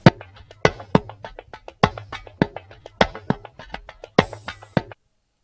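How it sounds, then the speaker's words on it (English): Jazzy percussion loop from a Benny X drum kit in a groovy hip hop beat, sharp repeated hits with softer ghost strikes between them in a swinging pattern, close and dry, stopping abruptly near the end. "a percussion loop from Benny X drum kit"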